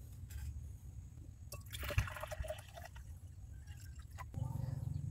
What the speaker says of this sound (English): so we will decant this one